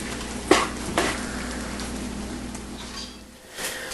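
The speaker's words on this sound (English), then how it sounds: "over here we have our apples cooking" Apples cooking in a pan for a caramel topping make a soft, steady sizzle throughout, with a couple of light clinks of a utensil near the start.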